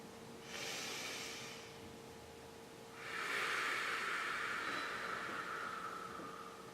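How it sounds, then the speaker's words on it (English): Two long, slow, deep breaths drawn through the nose, airy and hissing, the second fuller and longer, close and alone over a faint steady hum. "keep the deep breathing going, but go real slow too."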